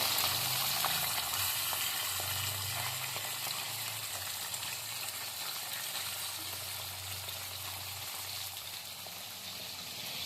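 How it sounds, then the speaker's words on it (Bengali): Small mourala fish frying in hot oil give a steady, even sizzle with a faint low hum beneath, continuous and close throughout. "এদিকে তেলটা বেশ ভালো রকম গরম হয়ে গেছে এবার আমি মাছগুলো তেলের মধ্যে ছেড়ে দিচ্ছি"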